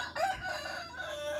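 Rooster crowing in a chicken yard in Sendang Agung, Central Lampung, a single short fairly faint crow over low background noise.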